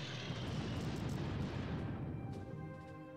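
A bombing strike in the wartime strategy game Unity of Command II lands as a broad, rumbling explosion that swells quickly and then decays slowly into a ringing tail.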